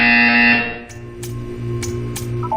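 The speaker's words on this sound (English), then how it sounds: "You will hear a buzzer." A loud, harsh electronic buzzer from the video game Portal 2 sounds steadily, cuts off, then gives way to a low hum with a few short bright clicks.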